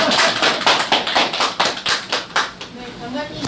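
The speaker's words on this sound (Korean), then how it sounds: "박수." Scattered clapping from an audience at a Korean senior citizens' association visit, a run of distinct, slightly uneven claps close by, with people talking over them.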